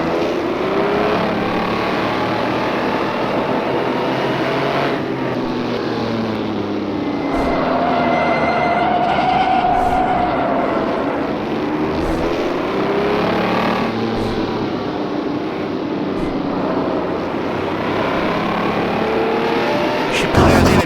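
Racing car engines drone and rise and fall in rFactor 2, driving a 1967 Renault 8 Gordini 1300 and a Ferrari Testa Rossa 250 as the revs sweep up and down, loud and continuous, while someone talks over them.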